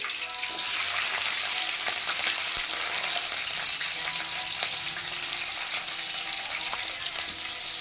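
Curry leaves and green chillies hit hot oil already holding mustard and cumin seeds for a ridge gourd curry, bursting into a loud, close hiss that settles into a steady crackling sizzle.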